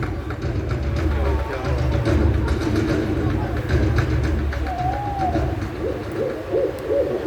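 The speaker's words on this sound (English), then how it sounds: "Sounds like an owl is nearby, isn't it?" An owl hoots nearby, a few clear hoots rising over a low rumbling background, while people talk at a bird show.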